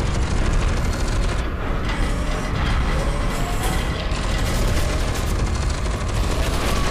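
Cannon gunfire in the video game F.E.A.R. 2, loud continuous rapid bursts blending into a dense roaring fusillade with booming impacts, filling the whole stretch without pause.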